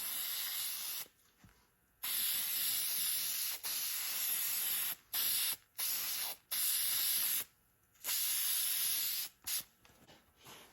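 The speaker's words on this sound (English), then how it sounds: "We're going to spray it with high tack." High tack gasket sealant aerosol spray bursts onto a new gasket in repeated hissing blasts of one to two seconds, separated by short pauses, close and loud.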